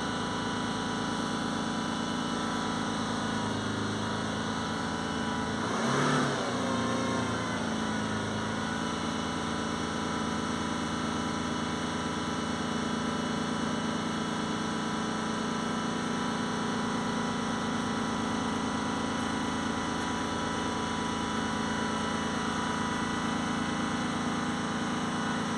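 A Land Rover Discovery 5 3.0 TDV6 diesel engine with a turbo overboost fault runs continuously at high revs, with a brief rough surge partway through, then settles back into an even, noisy hum.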